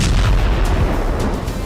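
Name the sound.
explosion at Russian FSB headquarters, news footage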